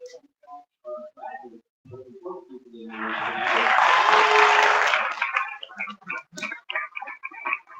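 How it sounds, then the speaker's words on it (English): At a 2025 THSU graduation ceremony, the audience applauds families with a swell of clapping that rises and fades after a few seconds, with a voice speaking before and after it. "If we can have a brief note of applause for our families"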